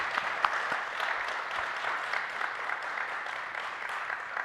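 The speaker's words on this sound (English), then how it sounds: "Round of applause for the team." Steady applause from a conference audience for a presenting team, a continuous even wash of clapping held at moderate loudness throughout.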